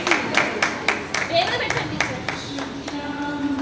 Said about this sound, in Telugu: క్లాప్స్ క్లాప్స్ క్లాప్స్ కొట్టండి.